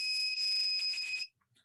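A steady, piercing electronic alarm tone from a small battery-powered circuit sounds loud and continuous for over a second, then cuts off abruptly into near silence.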